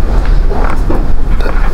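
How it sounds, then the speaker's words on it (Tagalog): Strong typhoon wind buffets the microphone, a loud, steady low roar with gusty surges throughout and no voices. "Grabe, lakas ng hangin, men."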